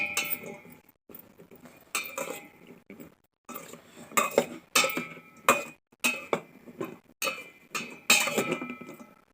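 Marinated ivy gourd is mixed with spices and curry leaves in a bowl, giving irregular bursts of clinking and scraping utensil strokes separated by short pauses, close and moderately loud.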